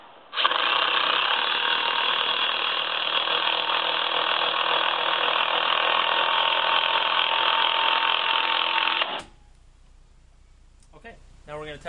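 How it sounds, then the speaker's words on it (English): An impact drill drives 3.5-inch heavy-duty screws into a door jamb while a security lock is installed, giving a loud, steady whirring buzz for about nine seconds, then cutting off abruptly before a brief voice. "Impactor drill gun makes a difference."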